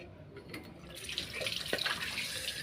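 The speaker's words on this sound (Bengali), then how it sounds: "এই মাংসগুলোকে ধুয়ে নেব," Tap water runs into a sink while chicken meat is washed, a faint splashing flow that grows stronger after the first second and continues steadily, close by.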